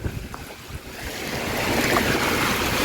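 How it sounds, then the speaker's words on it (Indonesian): Strong storm wind in Jeddah roars and buffets the microphone, building from gusty rumbling into a loud, sustained rush with no talking. "Angin kencang banget guys."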